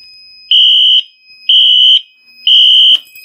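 A System Sensor 2151 photoelectric smoke detector alarm goes off in testing, sounding three loud, evenly spaced long electronic tones with short silent gaps between them.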